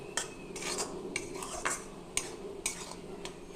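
Spices being stirred in a pan, a run of sharp metal utensil scrapes and clinks against the pan at a loose, irregular rhythm, close and fairly quiet, with no talk.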